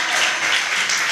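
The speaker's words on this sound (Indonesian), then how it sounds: "Boleh dong tepuk tangannya dulu untuk kita semua." An audience at a youth health and anemia-awareness dialogue event bursts into a brief, dense round of clapping that stays steady and fairly loud throughout, with no voices over it.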